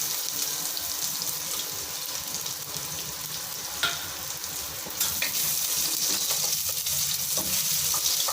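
Chopped ginger and garlic sauté in a pan, a continuous close sizzle with occasional stirring clicks and scrapes, getting slightly louder toward the end.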